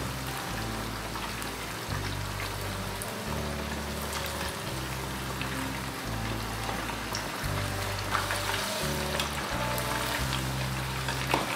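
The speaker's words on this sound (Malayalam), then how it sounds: "ഞാനിവിടെ 2-3 സെക്ഷനായിട്ടാണ് വറുത്തെടുക്കുന്നത്" Chicken pieces for kkanpunggi chicken deep-fry in hot oil, a continuous close, bubbling sizzle like steady rain, heard beneath a low, repeating background tone.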